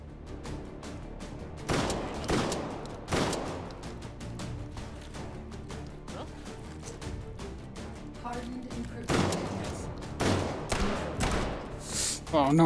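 Sharp bursts of gunfire crack out repeatedly during a Hot Dogs, Horseshoes & Hand Grenades VR shootout with Bergmann guns, loud close shots spaced irregularly through the scene while a person talks between them.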